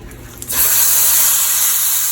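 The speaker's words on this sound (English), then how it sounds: "We're going to sear this on each side." A leg of lamb hits a hot pan and sears, starting with a quiet moment and then breaking into a loud, steady sizzling hiss that continues unbroken.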